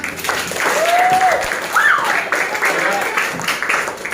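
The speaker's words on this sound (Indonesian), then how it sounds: "Tepuk tangan buat semuanya." Audience applause at the close of an academic supervision meeting, a sustained patter of clapping with a few whistle-like tones and faint voices mixed in.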